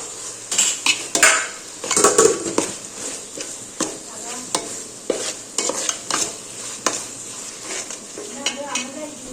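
Chopped tomatoes sautéed in a pan while cooking chicken biryani at home, with repeated metal spoon scrapes and clinks against the pan over a low sizzle, close and uneven.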